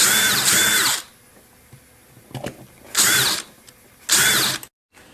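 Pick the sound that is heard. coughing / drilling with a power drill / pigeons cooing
drilling with a power drill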